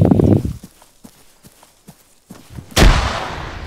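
Explosions and gunfire in a military amphibious-assault video game: sparse sharp shots and thuds, then a loud close blast near the end followed by a sustained rumbling roar.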